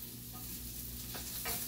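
Hashbrowns frying in a cast iron pan give a steady, close sizzle throughout, with a couple of brief louder bursts of spatter or stirring toward the end and no talking.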